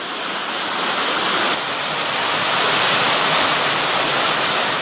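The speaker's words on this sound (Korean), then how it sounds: "저렇게 아주 멋진 폭포도 보이고" A waterfall on a canyon hiking trail in the American West, with loud, steady broadband rushing water that fills the whole stretch without pause and no voices.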